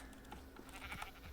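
Sheep bleating in a farming video game, with a few short, fairly quiet bleats over a steady background hum.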